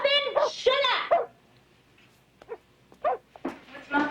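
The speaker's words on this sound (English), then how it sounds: "What's Muffin barking at?" Muffin the dog gives a couple of loud, close barks, then a few shorter yaps follow after a pause.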